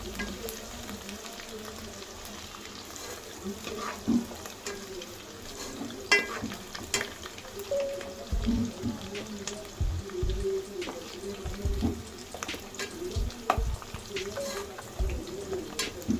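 Ginger garlic paste fries in a pan while being stirred, a low continuous sizzle broken by soft scraping and knocking of the spoon against the pan at irregular intervals, with faint birdsong in the background.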